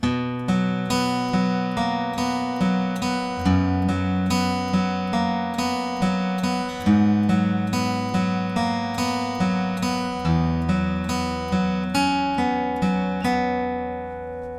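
A clean-toned guitar riff from a song repeats steadily, with bright plucked notes over a moving lower line, played alone at a moderate, even pace.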